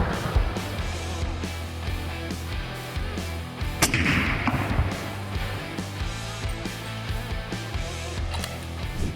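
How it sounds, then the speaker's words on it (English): A 6mm GT rifle firing match ammunition outdoors, a sharp report near the middle of a longer stretch of low rumbling background, with no talking. "Got the gunshot, the 6 GT."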